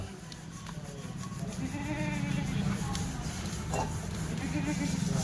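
A Kathiawadi goat bleats over a steady low rumble and murmuring voices, the calls rising in the middle and repeating a few times.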